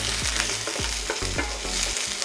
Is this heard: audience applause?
no